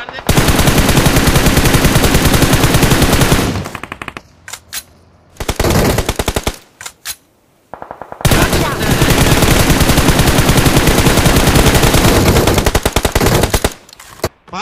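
Automatic gunfire in a competitive mobile shooting game on a realme X7 Max rattles in long, loud sustained bursts, with a few brief gaps of scattered single shots between them.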